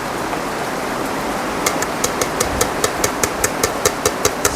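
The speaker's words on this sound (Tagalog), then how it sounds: "So, naririnig niyo ba ang ulan?" Heavy rain pours in a steady, dense hiss on a rainy Monday, joined partway through by a regular series of sharp ticking drips or taps.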